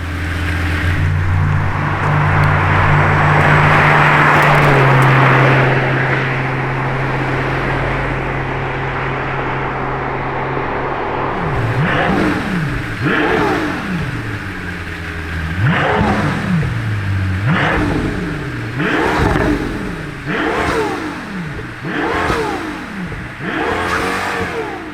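A Pagani Zonda 760 LH engine idles with a deep rumble, then gets blipped again and again, each rev climbing sharply and falling back in a quick series of loud, snarling throttle stabs.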